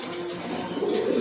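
Racer pigeons cooing in a loft, a soft, steady low burble close by that thickens toward the end, with no talk over it.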